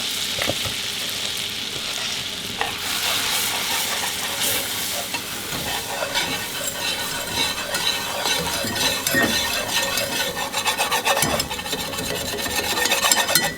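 Flour being stirred into a hot pan for a from-scratch broccoli casserole, giving a steady close scraping and rasping with a faint sizzle and occasional light clinks of the utensil, with no talk.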